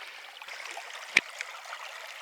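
Fast-moving stream water gurgles and trickles in a steady, fairly quiet wash, broken by one sharp splash or knock midway.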